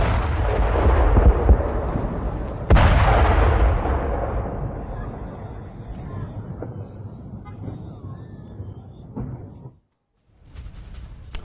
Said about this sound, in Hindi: और पूरी इमारत को किस तरह से लेबनान में उड़ा दिया इजराइल ने,